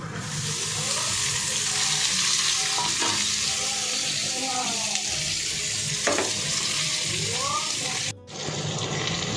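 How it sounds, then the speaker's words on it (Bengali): Chopped potato and carrot frying with onion, peanuts and curry leaves in hot oil, a loud, continuous sizzle with stirring scrapes and brief clinks from the pan. "এবার এটার মধ্যে আমি দিয়ে দেবো এই কেটে রাখা আলু আর গাজরটা।"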